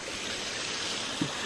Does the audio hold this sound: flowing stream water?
yes